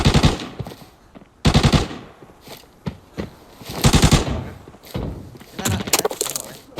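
Automatic gunfire in the video game Arena Breakout, loud repeated bursts and rattling volleys, some near and some further off, with sharp single shots scattered between them across the whole stretch.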